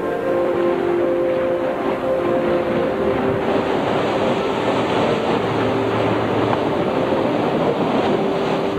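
Ocean water rushes and surges steadily around a racing sailboat in the Molokai Channel, mixed with heavy wind noise, loud and continuous throughout.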